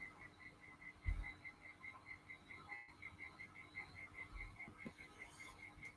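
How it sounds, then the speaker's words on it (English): Frogs breed at night by the ocean, croaking in a fast steady pulsing chorus, faint and distant over a quiet background with a couple of low bumps. "I can hear frogs out there breeding."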